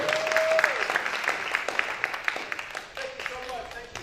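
A comedy club audience in the DMV claps and cheers to welcome a comedian to the stage, the dense applause running throughout while a host keeps talking loudly over it.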